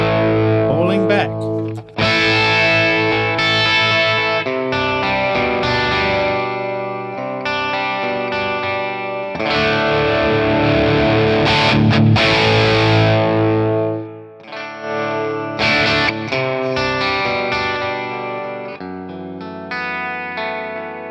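Distorted electric guitar played through a Friedman PLEX amp capture, heavy with effects, chorus and echo, ringing chords and sustained notes carrying on steadily and loudly alone.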